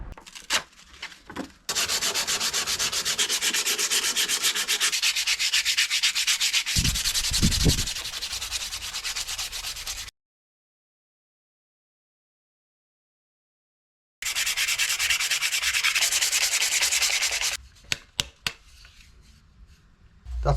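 Rough-grit sandpaper is rubbed back and forth along a wooden camping axe handle, a dense, close scratching hiss in two long sustained stretches separated by a gap of silence.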